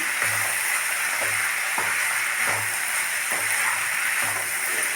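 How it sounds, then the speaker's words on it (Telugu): Tamarind juice hitting hot oil in a pan of jackfruit curry gives a steady, loud hiss and sizzle, with soft rhythmic stirring or scraping knocks about once a second underneath. "ఇప్పుడు చింతపండు రసం తీసి పెట్టుకున్నాను కదా చింతపండు రసం వేసుకుంటున్నాను"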